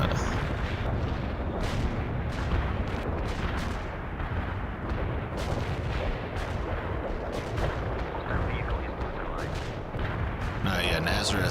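Sustained, dense gunfire and artillery booms from the World in Conflict strategy game, a loud continuous barrage of overlapping blasts and shots rolling without pause.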